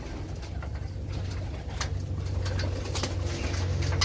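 Paper-banded racing pigeon cooing in a steady low repeating coo, close and moderately loud, with faint background rustling and no speech.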